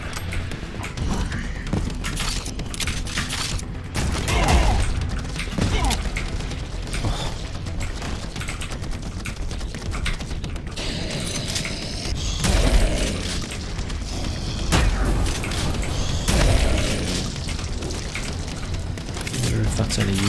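Grenade launcher fire in the shooter game PRODEUS, with repeated heavy booms and mechanical clanks layered over dense, loud game action, while someone talks intermittently over it.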